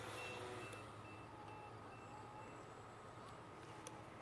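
Faint electronic warning beeps from a flying drone repeat at a steady pace over a constant low background hum.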